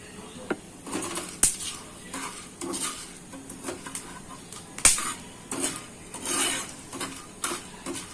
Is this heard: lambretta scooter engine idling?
no